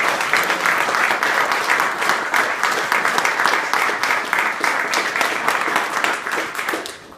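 An audience at a group home open house applauds the staff, a dense, sustained round of clapping that holds steady and tapers off at the very end.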